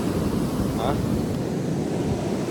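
Ocean surf on a beach where football is played, a continuous broad rush of waves mixed with gusty wind buffeting the microphone, fairly loud and steady.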